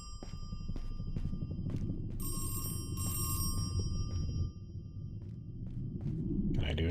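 In a video game, a telephone rings in two short bursts of bright, harmonic trilling tones, set among sparse soft knocks and footstep-like taps, with quiet ambience around it.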